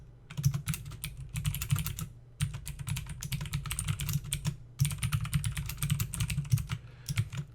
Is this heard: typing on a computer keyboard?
yes